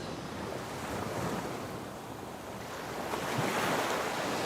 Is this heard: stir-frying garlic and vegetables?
no